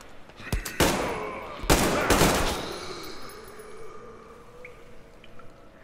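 A few sharp gunshots in Metro Exodus, three spaced cracks in quick sequence followed by a fading echoing tail and faint ambient game sounds.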